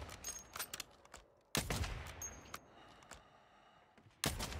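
Bursts of rapid automatic gunfire from the Warzone video game crack out in several clusters, with sharp, loud volleys separated by brief quieter gaps.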